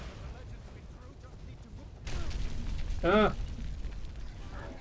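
Dragon fire breath in Skyrim Special Edition: a loud roaring burst kicks in partway through over game ambience, then a short bright harmonic screech follows, with a voice speaking briefly.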